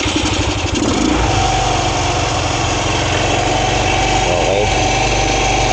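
A Rusi motorcycle with a stock carburetor idles steadily and loudly up close during adjustment, its engine holding an even mechanical rumble throughout while someone speaks briefly at the start.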